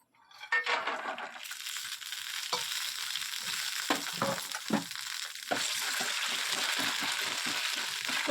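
A handful of peanuts frying in a little oil in a home kitchen pan, a steady bright sizzle with stirring scrapes and small clinks running throughout, close and continuous.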